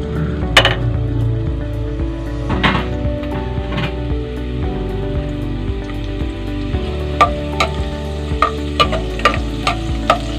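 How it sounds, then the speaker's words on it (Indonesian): Garlic sizzling in a hot pan as the base for Filipino pineapple chicken, a steady loud frying crackle punctuated by sharp clinks and scrapes of a utensil against the pan, growing more frequent toward the end. "Painitin lang po natin. Ilalagay ko na po yung bawang."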